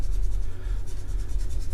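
Soft, steady scratchy rubbing of a large blending stump over colored pencil on paper, close up and continuous, with no voices.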